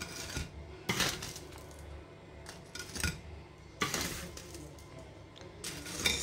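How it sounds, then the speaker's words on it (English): Freshly cooked homemade pandesal bread moved onto a plate, with a few close, sharp clinks and scrapes of utensils against cookware and plate at irregular intervals, no talking. "Now the bread is cooked. I need to transfer it on the plate."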